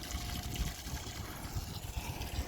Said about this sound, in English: So that now should be coming out of the exhaust. I can hear it into the canal.